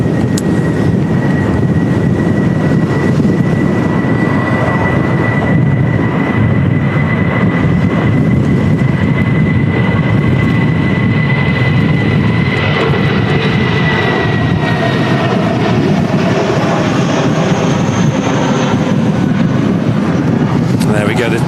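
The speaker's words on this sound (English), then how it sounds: "the BA shuttle service heading back to London Heathrow Airport" A British Airways shuttle airliner roars loudly and continuously at Manchester Airport in storm conditions, its jet engine whine steady then shifting late on, with wind noise and a voice talking over it.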